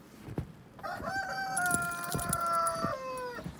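A rooster crows loudly in one long drawn-out call, with faint clucks and scattered clicks around it and no voices.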